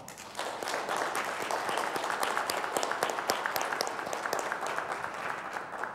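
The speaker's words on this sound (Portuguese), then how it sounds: "Vamos dar a eles todos uma grande salva de palmas." Steady applause from an audience at a formal ceremonial session honouring a men's rosary group, dense clapping sustained at an even level for the full stretch with no voices over it.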